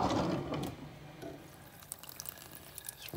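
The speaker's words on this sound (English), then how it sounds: "Just rinsing out my filter." Water from a tap rinses out a coffee filter, a close splashing gush that is strongest at the start and then tapers into quieter trickling and drips.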